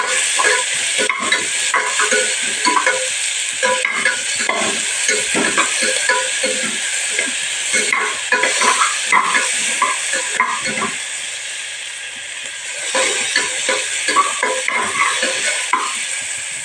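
Sliced big onions frying in a pan for mutton biryani, a loud continuous sizzle with frequent stirring scrapes and clatters throughout.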